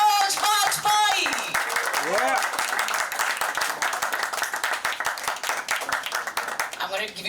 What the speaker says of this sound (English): may we please give a huge humongous round of applause for the one and only Padma Shri Manoj Bajpayee.